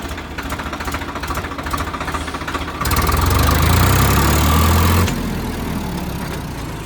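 A new Swaraj 744 tractor engine runs steadily in four-wheel drive, with a close, loud diesel chug and knock that rises in intensity for about two seconds before settling back to a rhythmic idle.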